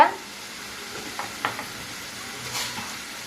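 Onion and tomato sautéing with turmeric in a pan for tomato rice, a faint low sizzle with a few soft stirring scrapes, quiet and close, no talking.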